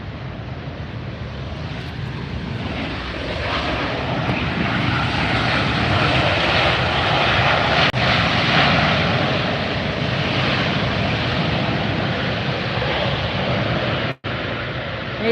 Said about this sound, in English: Airbus 319.